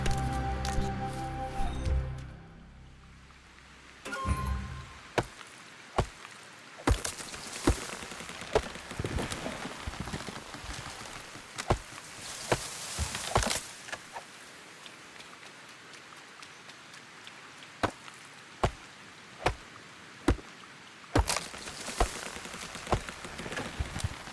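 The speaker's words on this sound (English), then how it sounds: "I'm just going to cut down some of the trees that are in town" Chopping down trees in the feudal Japanese village game Sengoku Dynasty, sharp woody strikes landing one by one at uneven intervals over soft ambient rustle, growing more regular near the end.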